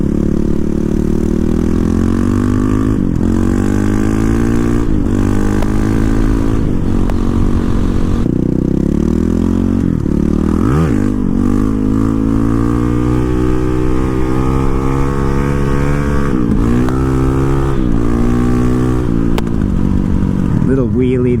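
A Honda CRF450RL motorcycle with a freshly flashed ECU revs hard through gears, its loud, close engine note repeatedly climbing and dropping as the rider pulls a wheelie.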